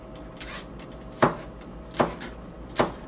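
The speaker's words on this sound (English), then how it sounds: "then for the onion, just chopping the shell." A slightly dull kitchen knife chops an onion on a cutting board. It gives three sharp, evenly spaced knocks, with a fainter tap before them, close by and with no talking.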